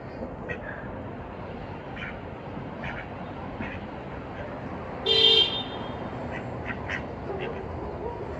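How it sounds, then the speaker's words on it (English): Several ducks quack in short scattered calls at moderate distance, with one louder, nearer burst of quacking partway through over a steady outdoor background hum. "Four little quacker ducks."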